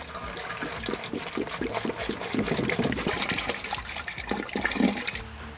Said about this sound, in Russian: Заливаем туда всего 1 литр воды и можем устанавливать на плиту.